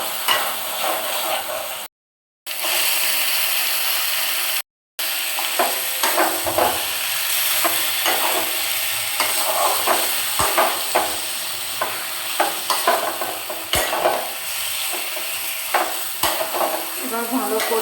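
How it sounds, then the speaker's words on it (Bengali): Ground spice paste fries in oil with a constant close sizzle, broken by the scrape and tap of a spoon stirring in the pan, and two short silent gaps partway through. "বাটা সব মশলা এবার ভালোভাবে কষিয়ে নেব।"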